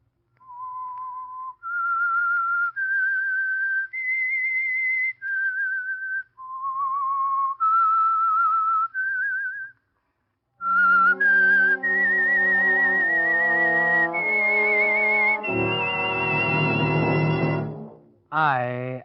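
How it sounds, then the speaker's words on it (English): A solo human whistle carries an eerie tune as a radio program's signal, clear sustained notes stepping up and down in two phrases, the second joined by an orchestra swelling beneath it. "That whistle is your signal for the Signal Oil Program"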